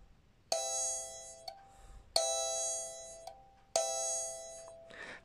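A kalimba tine is plucked three times at even intervals, each bright metallic note ringing out and decaying with a faint buzzing tail, heard up close in a quiet room.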